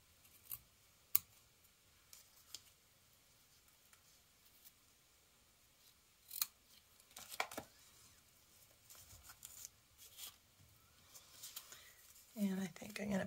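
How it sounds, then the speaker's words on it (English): Scissors trim ribbon on a handmade card: a few quiet, crisp snips and small clicks scattered through a calm tabletop scene, close and faint, with soft rustling near the end. "And give it a little trim."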